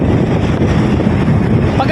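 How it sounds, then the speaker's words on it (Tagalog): Strong wind buffets the microphone of a moving motorcycle, a loud, steady broadband roar that fills the whole clip, with a brief whistle-like tone near the end. "At sarap pa ng hangin dito!"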